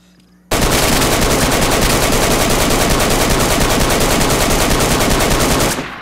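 A sustained burst of automatic gunfire from the video game DayZ rattles loud and near for about five seconds, fast evenly spaced shots starting abruptly after a quiet moment and cutting off at the end.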